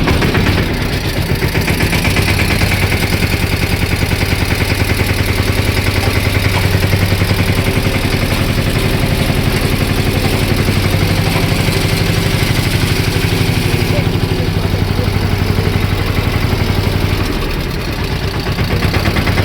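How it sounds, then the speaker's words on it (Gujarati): A tractor engine, recently repaired with a replaced small starter motor, runs steadily and loud at close range with a rough, chugging idle throughout, with no talk over it. "હવે હું સ્લેપ માર્યું કે ટ્રેક્ટર બરાબર ચાલુ થઈ જાય છે કે નહીં."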